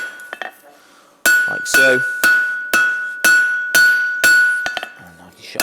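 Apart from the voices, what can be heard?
hammer striking hot steel on anvil edge, forging staple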